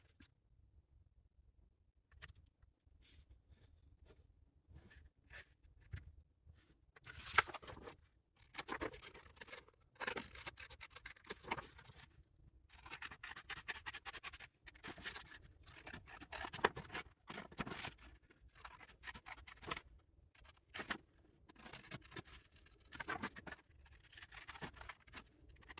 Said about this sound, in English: I will use my pencil to trace it and then cut it